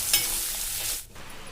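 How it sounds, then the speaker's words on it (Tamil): Onions sauté with garlic in a pan for a Tamil-style ponnanganni greens stir-fry, a steady close sizzle with a brief stirring scrape and a short dip near the end. "வெங்காயத்தை வதக்கி விட்டுக்கலாங்க."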